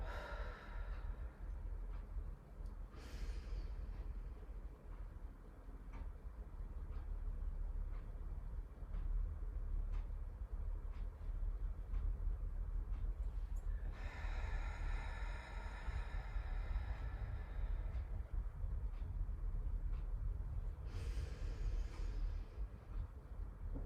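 Long, slow exhale as part of a calming breathing exercise, a soft sustained airy rush with a few breath bursts, near and steady, with no talking.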